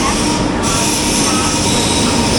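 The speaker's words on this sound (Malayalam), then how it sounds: "ന്യൂഡൽഹിയിലേക്ക് പോകുന്ന കേരള എക്സ്പ്രസ് ഇതാ പ്ലാറ്റ്ഫോം നമ്പർ 4ലേക്ക് കയറി വരുന്നു" The New Delhi-bound Kerala Express rolls into platform 4, a loud, close, continuous rumble of wheels and carriages with a faint metallic squeal running throughout.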